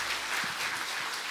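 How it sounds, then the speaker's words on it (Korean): A church congregation claps together in praise during a New Year worship service, a dense steady burst of applause filling the room briefly. "하나님 앞에 영광의 박수 올려드리겠습니다."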